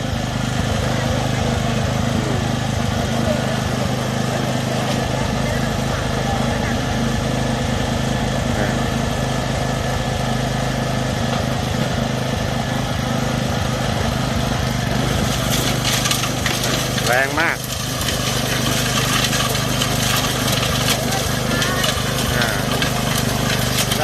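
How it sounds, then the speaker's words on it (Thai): A small four-stroke gasoline snow blower engine runs loudly and continuously at a steady idle, with a slight change in tone partway through. "เครื่องยนต์เบนซินสี่จังหวะ"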